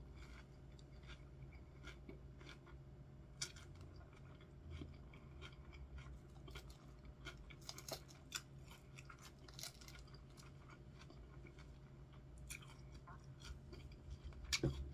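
Someone eats chicken salad with onions up close, with soft crunchy chewing and moist bites repeating irregularly over a quiet background.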